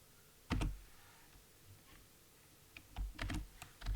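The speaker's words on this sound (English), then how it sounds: "Now we have to type the content of the header file" Typing on a computer keyboard while writing C++ header code, quiet and close: one sharp burst of keystrokes, a pause, then a quick run of clustered key taps, with no voice over it.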